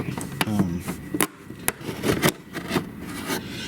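Plastic back cockpit tub being pulled off a CARF Su-30 model jet, a few sharp scraping and rubbing snaps of wood and plastic close by, spread unevenly over a few seconds of handling.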